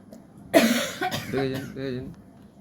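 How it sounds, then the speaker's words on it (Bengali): A sudden harsh cough breaks out close up, followed by several throaty, strained coughs trailing off. "সঙ্গে সঙ্গে বিষম লেগে গেছে দেখুন"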